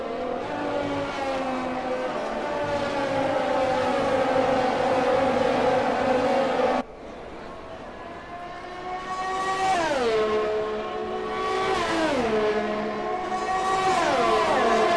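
Formula 1 car engines in the F1 2020 video game whine and rev steadily at the Italian Grand Prix, pitch sweeping up and down through gear changes, loud and continuous, with another car roaring past.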